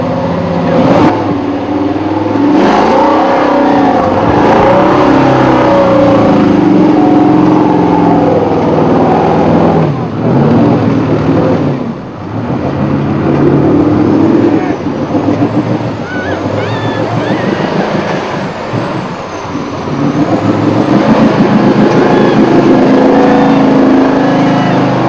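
An off-road truck engine roars steadily as it drives through a trail hole during a Top Truck Challenge trail run, loud and continuous with rising and falling revs.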